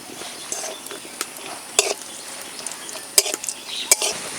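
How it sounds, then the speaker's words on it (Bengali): Cashews and raisins frying in ghee for a semolina and lychee halwa, a low bubbling sizzle punctuated by a few sharp spoon clinks and stirring scrapes against the pot, close by. "কাজু কিশমিশ কাঁচা দেওয়ার থেকে ঘি দিয়ে ভেজে দিলে খেতে ভালো লাগে।"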